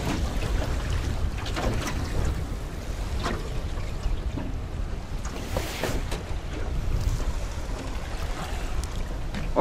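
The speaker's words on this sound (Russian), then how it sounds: "Ветер сильный, блин." Strong wind of about 15 m/s blows over open water from a small boat, buffeting the microphone with continuous gusty roar and rumble, with waves slapping and no talking.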